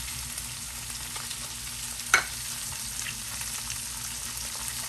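Salmon pan-searing in butter with garlic gives a steady, close sizzle and frying hiss throughout, with one brief louder pop or crackle partway through.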